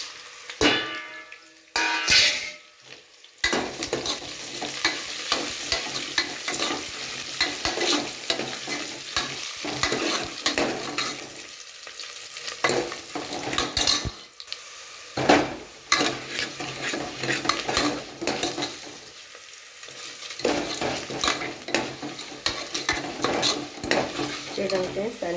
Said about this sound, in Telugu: ఇప్పుడు ఎర్రగడ్డ కూడా కొంచెం బాగా ఫ్రై అయింది కాబట్టి ఇప్పుడు ఇవన్నీ కలిపి వేసేస్తాను.